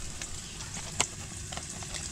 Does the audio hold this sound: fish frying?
yes